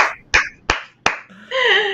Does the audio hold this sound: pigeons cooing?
no